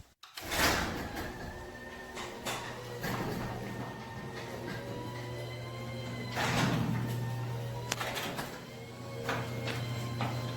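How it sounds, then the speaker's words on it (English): A garage door rolls open with a long, steady rumbling drone and scattered rattles and clunks, fairly close, running for about ten seconds with no talking. "So I'm going to pop open this garage door."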